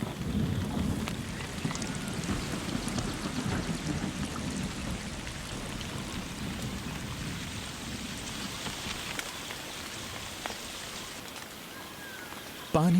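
Heavy monsoon rain pours steadily in a dense, loud hiss with low rumbling thunder underneath, a continuous storm wash that eases slightly toward the end.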